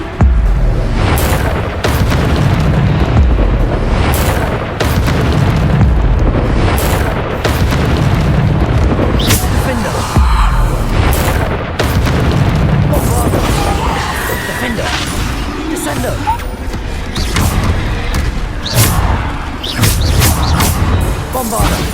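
Bombarda blasting spells in Hogwarts Legacy erupt in a dense, continuous barrage of booming explosions and crashing bursts, loud and overlapping throughout, under a spoken voice.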